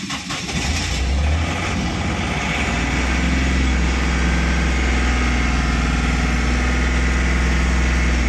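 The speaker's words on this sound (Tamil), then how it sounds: "வாங்க இன்ஜின் கண்டிஷன் எப்படி இருக்குன்னு ஸ்டார்ட் பண்ணி பார்த்துடலாம்." A 2015 Ashok Leyland Dost small truck's diesel engine cranks and catches, then settles into a steady, close, rumbling idle with a constant low throb.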